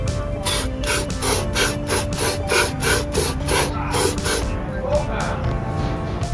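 Rapid, rhythmic rasping strokes of a brush scrubbing carbon off a car's EGR valve, with bursts of hiss repeating steadily and a voice speaking underneath.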